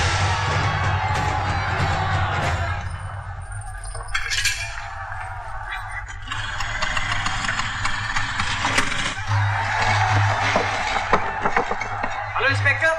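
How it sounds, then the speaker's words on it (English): Large crowd gathered outside, a loud roar of many voices with cheering and whoops over a low engine rumble, continuous and somewhat distant. "There's a huge crowd outside."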